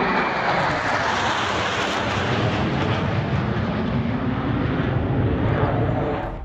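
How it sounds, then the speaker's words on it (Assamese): A military fighter jet roars overhead during air show practice above an emergency landing strip on a highway in Moran, Assam: a dense, loud, steady rumble lasting several seconds before easing slightly at the end. "আকাশত যুদ্ধ বিমানৰ অনুশীলন।"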